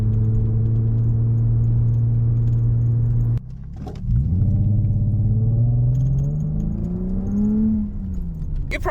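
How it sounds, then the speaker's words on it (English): Swapped engine in a Lexus GS300 runs under low throttle with a misfire, a steady hum that drops out with a stumble, then pulls up in rising pitch with uneven engine tone, loud and close. "On low throttle, that's when specifically it misfires."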